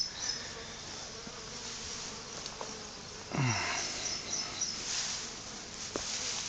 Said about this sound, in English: A lot of bees, and this is very, very dangerous.